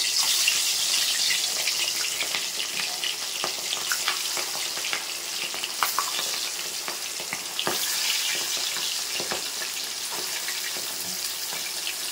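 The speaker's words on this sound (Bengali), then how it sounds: "ফার্স্টে তো আমি মাছগুলো এবার ভেজে নেবো একটু করে।" Fish pieces shallow-frying in hot oil, with a steady close sizzle and a scatter of small crackles and pops throughout.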